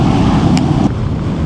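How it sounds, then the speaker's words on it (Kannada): Strong wind roars and buffets the microphone during a monsoon ride toward Sakleshpur, a loud, steady rumble that briefly dips partway through. "ತುಂಬ ಗಾಳಿ ಇದೆ ಇವತ್ತು"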